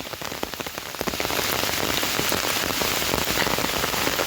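Heavy storm rain pours steadily onto a surface, a dense continuous patter of drops that grows slightly louder after the first second.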